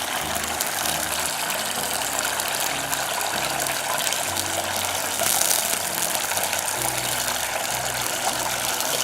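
Water and oil hiss together in a hot pan, a loud, even, continuous sizzle with no speech over it.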